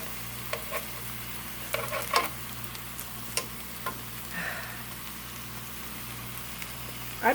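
Lemon chicken pieces being turned over in a pan, giving a steady faint sizzle with scattered scraping clicks and soft taps from the utensil, and no voices.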